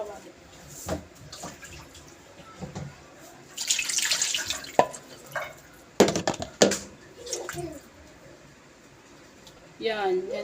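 Tap water runs and splashes in bursts while a frying pan is washed in a kitchen sink, with clatter and handling noises between, and people talk over it.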